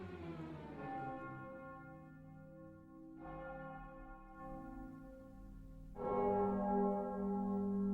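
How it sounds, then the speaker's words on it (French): Small resonant bells strike three times, each ring swelling then slowly fading, the last stroke the loudest. "Donc les petites cloches pour me mettre dans l'ambiance."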